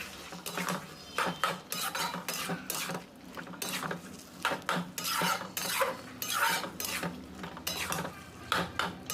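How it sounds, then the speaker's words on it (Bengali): A spoon scrapes and stirs potato and spinach in a pan in steady, repeated strokes with metallic clinks and faint sizzling, close and continuous. "জল দিয়ে আবার নাড়াচাড়া শুরু করে দিতে হবে"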